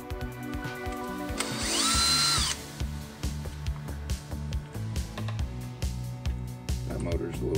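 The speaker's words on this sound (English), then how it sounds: "You're going to need a 2mm hex drive to pop these screws out of place." Power driver with a 2mm hex bit whirring in one loud burst to back screws out of the motor cover on a Traxxas K10, followed by a run of small clicks and taps as parts are handled.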